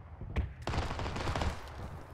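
Video game gunfire crackles in sharp bursts, a single shot followed by a rapid volley of automatic fire, fairly faint and distant-sounding with little talk over it.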